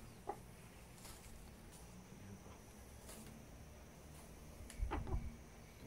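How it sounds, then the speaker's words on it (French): A rooster gives a few soft, scattered clucks close by, faint over a low background hiss, with a brief rustle near the end. "Pas content petit poulet."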